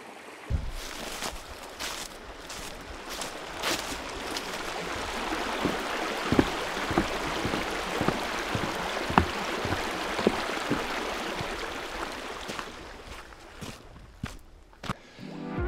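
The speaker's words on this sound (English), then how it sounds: "So now I'm going to record the river." River water flowing steadily outdoors, a continuous close rushing wash with scattered splashes and a few sharp knocks toward the end, no talking.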